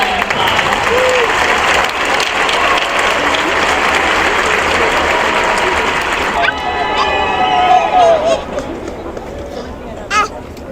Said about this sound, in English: Let's give these graduates an extra round of applause